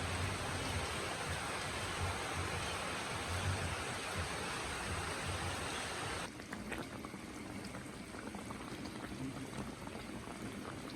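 September rain falls in a steady, dense hiss that fills the whole stretch with no pauses, slightly heavier and rougher at first and then thinning to a softer patter partway through.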